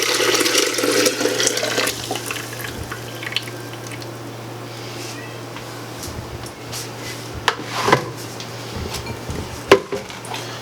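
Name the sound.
pouring nut milk into a blender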